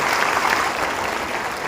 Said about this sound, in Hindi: तो इसलिए बहुत जोरदार तरीके से आप सभी लोग इनका स्वागत करें तालियों की गूंज के